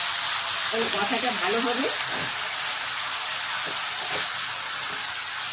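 A splash of water hits ginger-garlic paste frying in a pan, setting off a steady loud sizzle and hiss that carries on under a voice.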